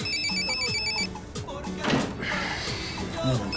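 A mobile phone ringtone repeats in short bursts indoors, loud and near, while people talk over it and a door bumps.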